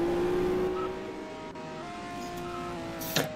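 Engine of a Formula One-style racing car in a video game, a steady high mechanical drone that dips and shifts pitch, fairly close, ending with a brief sharp noise.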